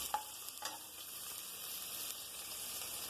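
Ingredients for coconut vegetable pulav sauté lightly in a pan with a steady soft sizzle, and a couple of faint utensil taps sound near the start. No one speaks.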